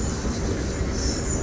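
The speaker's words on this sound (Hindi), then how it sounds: "ये आ गई बहाउद्दीन ज़किया एक्सप्रेस 25 अप" The Zikria Express 25 Up passenger train, led by a Blue Tiger AGE 30 locomotive, rolls into Landhi station with a loud, continuous rumble of wheels and cars, close by and with no voices.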